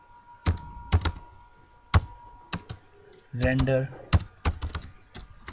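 Code for a Python Flask login page is typed on a computer keyboard, sharp separate key clicks in an uneven rhythm, close and clear, with a short spoken word partway through.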